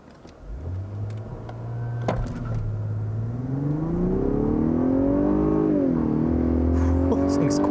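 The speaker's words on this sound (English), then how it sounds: "the first thing I do want to test out is the 0 to 60 performance of this vehicle" A 2021 Lexus LS 500 luxury sedan launches hard in a 0 to 60 run, its engine note climbing steadily through the gears with a brief dip at a shift, loud and close inside the cabin.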